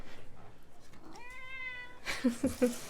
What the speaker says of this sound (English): She's doing a meow too. That's like, can I come in?